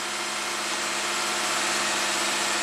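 A 2015 Lexus IS250 V6 engine idling high at a fast idle of about 2200 RPM, a steady, loud, close-up drone with constant tone and no rise or fall, heard alone without talk.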